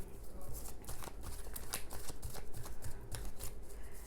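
Tarot cards being shuffled by hand, heard as a close, continuous riffle and flutter of cards sliding against each other for several seconds.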